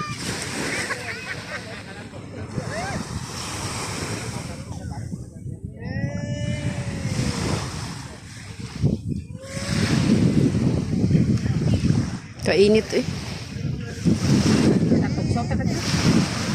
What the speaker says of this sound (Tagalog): Nya mao ni dagat diri, distance ra siya.